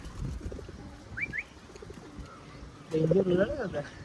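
Soft pigeon coos nearby, a low throaty warble rising near the end, with faint voices talking in the background.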